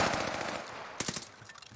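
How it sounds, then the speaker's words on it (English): Gunfire in Call of Duty Warzone, with a rapid automatic burst trailing off followed by a few sharp separate shots, moderately loud and close. "Stop shooting at me."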